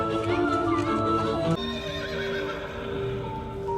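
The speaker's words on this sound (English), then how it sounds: "Next, I came across an invisible horse." A horse whinnies loudly over a dense forest ambience in a Harry Potter Forbidden Forest experience, its long neigh followed by softer snorts and faint hoof clops, with no talking.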